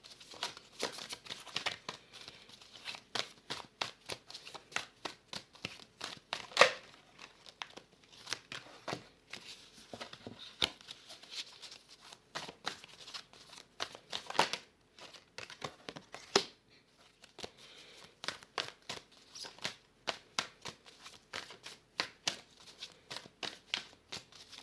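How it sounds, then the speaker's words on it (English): Tarot cards shuffled by hand before a love reading, a long run of soft papery riffles, flicks and crinkles in quick irregular bursts, close and fairly quiet with no talk. "I'll be pulling 3 cards for the recent past, 3 cards for the present, and 3 for the near future."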